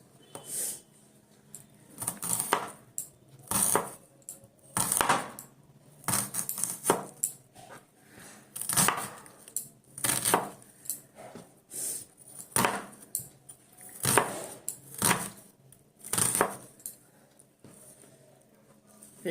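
Onions being chopped with a knife on a board for crispy vegetable pakoras, a series of sharp, close, separate thuds coming in irregular bursts with pauses between them and no talk.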